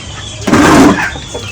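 A rooster gives one short, loud burst of clucking close by, with quieter background noise before and after.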